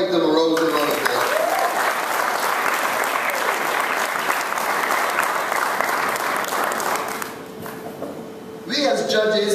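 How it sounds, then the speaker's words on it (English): An audience at a teacher awards ceremony in Barbados claps loudly and steadily for the award winners, the dense applause thinning out near the end, with a voice heard briefly at the start and end. "Let's all give them a round of applause."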